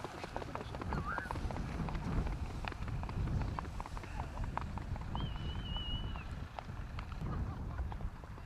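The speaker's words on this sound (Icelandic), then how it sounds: "og síðan hér Jarpur hestur Vídalín frá Hamrahóli" A bay horse walks with hooves clip-clopping faintly and at a distance among outdoor background noise, with a soft duck-like call and someone speaking Icelandic over it.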